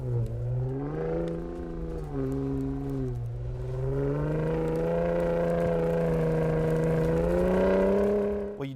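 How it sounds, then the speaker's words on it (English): A 2021 Ford Raptor V6 with an active valve dual exhaust revs hard and holds a throaty, rising drone close up, its pitch swelling and dipping over several seconds with no talking. "What you just heard was the active valve dual exhaust, which gives you a throatier engine sound like you just heard"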